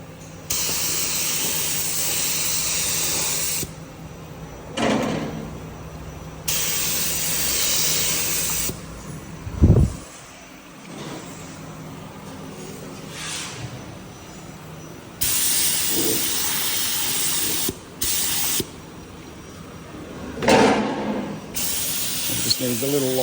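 A spray can lays light coats of satin black during a Holden HX Kingswood body restoration, sending repeated loud hissing bursts of several seconds each, separated by short pauses.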